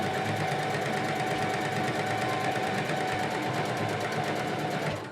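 A sewing machine stitches fabric in a fast, steady mechanical chatter, close and continuous for several seconds before cutting off at the end.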